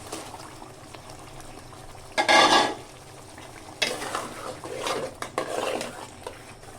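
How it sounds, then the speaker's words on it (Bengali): Fried pointed gourd goes into a simmering prawn curry in a pan and gets stirred: a burst of sizzling and bubbling, then repeated wet stirring scrapes, close up and moderately loud over a low background simmer. "এটা দিয়ে দিচ্ছি ভেজে রাখা পটল।"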